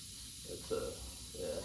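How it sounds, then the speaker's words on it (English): Two short hissing spray bursts of a cleaner from a trigger sprayer, squirted a couple of times, with a steady background noise underneath. "if you can spray it on there and watch dirt run off as you spray it"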